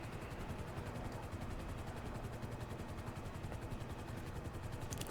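A California Highway Patrol helicopter in GTA 5 drones with its rotor blades thumping in a steady rapid chop and engine whine, sounding close and constant, with no talk.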